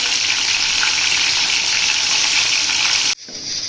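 A goat leg (raan) frying in a pan, a loud, steady sizzle of hot oil that runs evenly for about three seconds, then drops off abruptly to a softer hiss.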